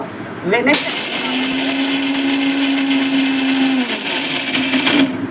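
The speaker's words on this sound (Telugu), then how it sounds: "మనము మిక్సీ ఆన్ చేసేటప్పుడు మనము ఇలా రైట్ సైడ్ ఆన్ చేసుకో" Electric mixer grinder grinding a mint vada mix, a loud whirring motor that starts abruptly and runs steadily for about four seconds before cutting off, close up.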